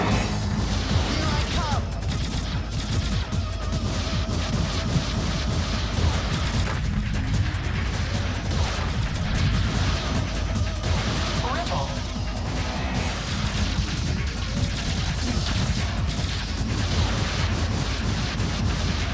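Robot mech firing weapons amid explosions in Zone of the Enders 2, a constant loud barrage of gunfire, booms and crashes with someone talking over the action throughout.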